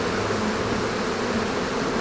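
Honey bees buzz densely around an open beehive during an inspection, a steady close swarm drone with no talk over it.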